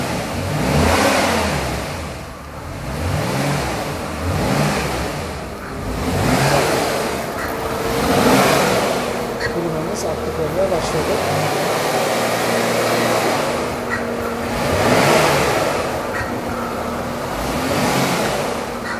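Jaguar X-Type 2.1 V6 (2009) engine revving in a workshop during air-conditioning gas refilling, rising and falling in about six repeated swells over a steady idle, with no talk.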